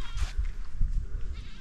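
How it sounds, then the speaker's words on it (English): Large goats bleating in a riverside village in South Sudan, a few short nasal calls heard at moderate distance over outdoor background noise. "So you see the kind of goats they have, very big."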